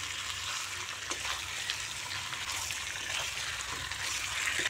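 Chicken stirred in an oily pan over a high gas flame during Shillong-style coiller chicken cooking, a steady close sizzle with scraping stir strokes and no talking.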